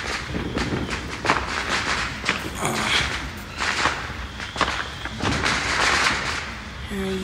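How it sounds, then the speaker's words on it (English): Independence Day fireworks going off out of sight, a string of muffled thumps and pops repeating irregularly over a constant outdoor background noise. "Oh, fireworks are blowing. Fireworks. You can't see them, but you can hear them."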